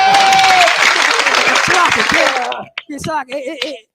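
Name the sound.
applause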